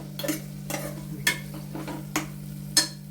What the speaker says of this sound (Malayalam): ഈ ഉള്ളി ഇട്ട് കഴിഞ്ഞാലില്ലേ, ഈ മസാലയിൽ നല്ലോണം ഒന്ന് വഴറ്റണം